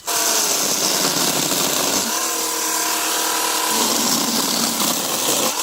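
An AL-KO CS 1825 cordless chainsaw running on a 2.5 Ah battery cuts into cherry wood, a loud, continuous whine whose pitch drops and strains as the chain bites, then lifts again.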